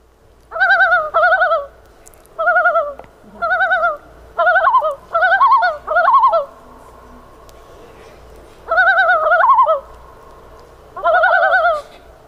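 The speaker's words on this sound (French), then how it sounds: "cet oiseau-là, il produit plein de sons différents, des chants, des cris." A rare bird from very cold regions calls in a quiet setting, giving about nine separate harmonic, hooting phrases. Each lasts under a second and they come in irregular clusters, clear and close, with no voices.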